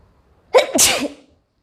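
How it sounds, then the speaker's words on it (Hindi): A single sharp human sneeze, close and loud, with a quick intake followed by a burst. It was triggered during an earbuds sneezing challenge, and silence falls on either side. "बहुत ही तेज़ वाली आ रही है इससे तो छींक।"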